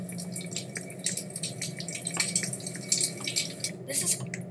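Water drips steadily in a tiled shower room in a Roblox horror game, with scattered patters and splashes over a low ambient hum, fairly close and continuous.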